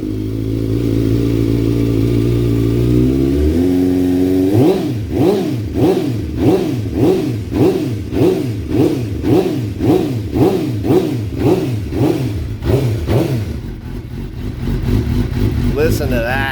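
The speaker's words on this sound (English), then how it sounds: "the Two Brothers pipes, they do sound good. It's got that GP kind of a sound." A 2005 Suzuki GSXR 600 fitted with Two Brothers exhaust pipes idles steadily, then is revved over and over in a quick, even rhythm. Each throttle blip rises and falls sharply, loud and close.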